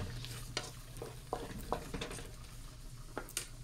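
Large shrimp fry in butter in a pan with a soft steady sizzle, broken by faint scrapes and clicks of stirring, close and quiet.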